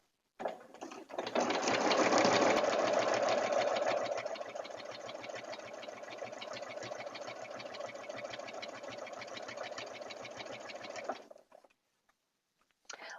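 A sewing machine runs steadily for about ten seconds, stitching a quarter-inch seam on quilt binding, raw edge on raw edge, with a fast even whir that starts loud and eases slightly before stopping.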